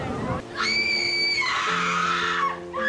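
A single high, drawn-out scream cries out over quiet background tone, wavering and then sliding down before cutting off, a short sound effect within a read-aloud story.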